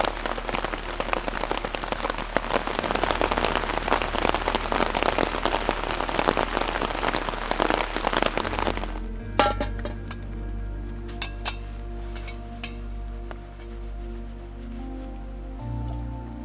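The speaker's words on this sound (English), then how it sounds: "it's starting to rain again" Steady heavy rain falling at a mountain creek campsite, a dense close hiss for about nine seconds before it gives way to lighter, scattered drips and clinks.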